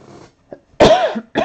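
A man gives a sharp, loud cough up close with a second short burst just after, over a quiet background during a live-streamed sports card break.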